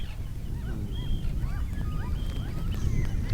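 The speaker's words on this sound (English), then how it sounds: "Are those seagulls?" Seagulls call repeatedly in Sweden's archipelago while a boat sails there. The short, scattered cries sound moderately distant over a constant wash of wind and water, and no one speaks.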